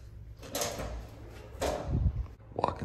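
An apartment front door in Osaka, Japan opens with a couple of soft sliding scrapes and a low thump, close and fairly quiet, with a faint shuffle at the end and no speech.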